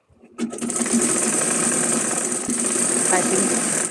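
A sewing machine stitches a seam on a folded cloth bag, starting after a brief pause and running as a steady, close, whirring buzz for several seconds.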